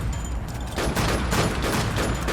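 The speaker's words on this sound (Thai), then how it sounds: "ปืนนี้ ค่อนข้างที่จะรัวนะ" A rapid-fire gun in the Minecraft WarZ game shoots dense, continuous bursts of closely spaced shots. The fire is loud and near, running almost without pause.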